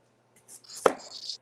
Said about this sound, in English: Is that too much noise, me cutting?